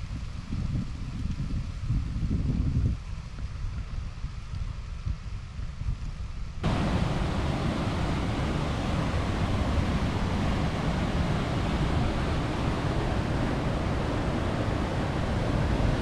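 A hidden waterfall near a road gives a steady broadband roar, with wind buffeting the microphone early on before the rushing noise becomes louder and fuller.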